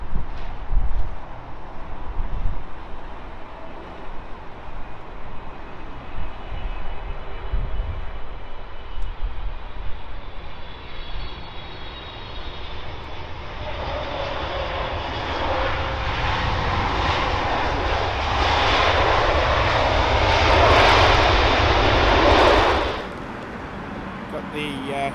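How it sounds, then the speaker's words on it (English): A British Airways Boeing 777-300 from San Francisco at London Heathrow, its jet engines rumbling at a distance and then swelling into a loud, close roar before cutting off abruptly, with wind noise and voices around it. "British Airways Boeing 777 from San Francisco."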